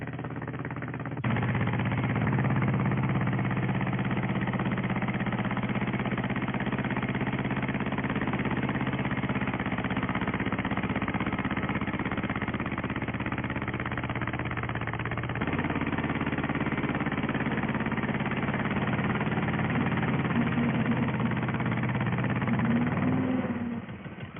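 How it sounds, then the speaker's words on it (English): John Deere tractor engine labouring under load while pulling a three-bottom plow at a 1957 farm fair, a steady loud low rumble that holds for the full stretch with a slight shift midway. "It's doing plenty of grunting pulling those three bottoms"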